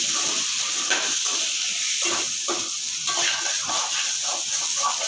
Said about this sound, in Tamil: இதில் இஞ்சி பூண்டு பேஸ்ட் போட்டுக்கலாம் நம்ம எல்லாத்தையுமே நல்லா போட்டு வதக்கிட்டு